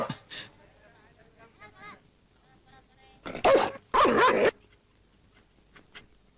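Two loud, sharp barks from a police dog in quick succession, preceded and followed by quieter talk.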